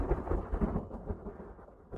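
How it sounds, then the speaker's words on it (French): Thunder rolls during a thunderstorm, a low, rumbling boom that swells and pulses for about two seconds with no voices over it. "C'est juste un orage."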